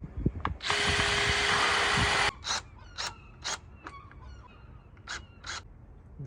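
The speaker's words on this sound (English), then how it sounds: "I'm just going to drill that and get it screwed together" A power drill whines in one sustained burst while drilling into camper van cupboard panels, followed by several short bursts as screws are driven in, close and clear in a quiet room.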